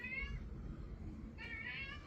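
A cat meows twice in drawn-out, wavering cries, one at the start and one near the end, heard over a low rumbling indoor background.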